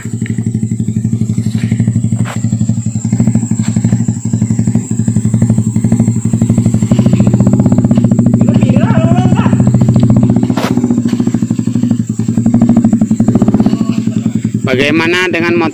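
Motorcycle engine running steadily on a rubber plantation during land clearing, a continuous loud drone with occasional clatter and thumps, while people talk over it.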